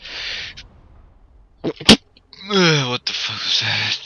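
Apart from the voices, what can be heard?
suppressed sneeze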